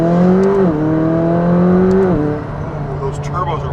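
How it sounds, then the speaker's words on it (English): A McLaren 570S Spider's turbocharged engine revs up close and loud, holding a steady drone that steps down in pitch twice before settling into a lower hum. "Those turbos are way louder now."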